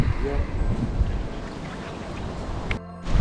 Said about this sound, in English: we do got the wind to deal with. That dang wind. That West Texas wind.